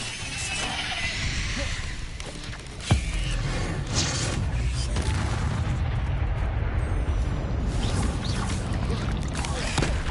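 A fire spell cast in the Hogwarts Legacy video game, one sharp burst followed by a steady roaring, rushing flame that holds loud and close, with a voice speaking briefly in the mix.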